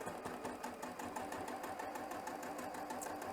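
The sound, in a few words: sewing machine back stitching a zipper pouch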